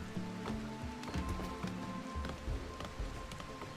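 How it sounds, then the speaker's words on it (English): Rain falls in the RimWorld video game, a quiet patter of drops under soft background game music and tones, steady throughout. "It's raining now too."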